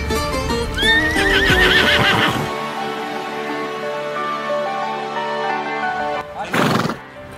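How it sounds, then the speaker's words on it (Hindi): A horse whinnies loudly and close in a rising, quavering neigh, followed by clip-clopping hooves and a brief noisy burst near the end. "वाह क्या घोड़ा है।"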